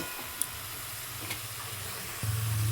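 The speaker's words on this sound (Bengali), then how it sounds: "এই লাউটা কিন্তু ভালো করে একদম মিশিয়ে নেব" Bottle gourd (lau) curry stirred in a pan gives a soft, steady sizzle with faint scraping. A low, pulsing hum rises near the end.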